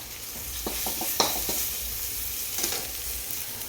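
Curry leaves, green chilli, garlic and asafoetida hitting hot oil in a pan for tempering, a continuous bright sizzle with sharp pops and crackles scattered through it, close up and without talk.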